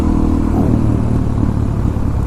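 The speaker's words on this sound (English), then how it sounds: "second gear, clutch up, brought it up, tap the back brake, bring it down." A motorcycle, an FZ-09 or DR-Z400, pulling a wheelie with the clutch released in second gear, a loud close rough engine roar held steady throughout.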